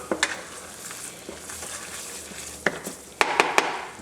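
Carrots stirred in a hot pan of Cajun crawfish fricassee base, a low steady sizzle broken by a few sharp utensil scrapes and clinks near the end, close and moderately loud.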